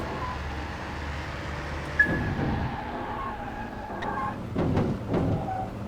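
A race car's engine in Car Mechanic 2021, a droning, whining motor heard steadily with a sharp clunk partway through and a few rougher surges toward the end, moderately loud.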